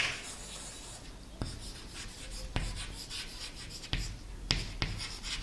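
A pen or marker writes notes on a board during a biology lecture, steady scratchy strokes with sharp taps at intervals, close and moderately loud with no talk.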